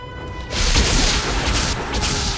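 A magic missile spell is cast in a fantasy video game, making a loud booming burst that swells after a brief quiet start and rumbles on steadily to the end. No one speaks.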